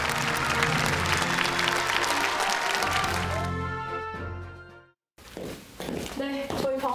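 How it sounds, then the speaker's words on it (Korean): Loud, dense applause from a crowd at an awards ceremony fills the room, then fades out with a brief silence before scattered clapping resumes. "6개월간 열심히 달려온 저기요팀에게 박수를 보내며"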